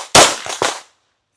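A quick string of three loud pistol shots from a competition handgun at close range, sharp cracks with ringing tails, followed by silence and the start of another report at the end.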